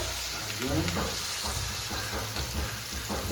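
Onions and carrots fry in a pan, a steady close sizzle with light stirring scrapes throughout, with no talk over it.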